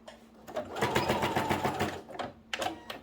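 A domestic sewing machine runs a short burst of reverse stitching to secure a seam on a fabric pouch, a close whirring rattle lasting about two seconds, then a brief second burst.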